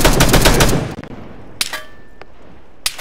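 Dense burst of automatic machine gun fire in the Arma 3 military game, loud rapid rounds for almost a second, then scattered isolated distant shots and a metallic ping amid quiet.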